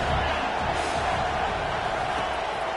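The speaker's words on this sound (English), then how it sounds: "3rd down, and this crowd is tearing the lid off this place." A college football stadium crowd at a Kentucky vs Alabama game roars steadily and loudly on third down, a dense unbroken wall of cheering.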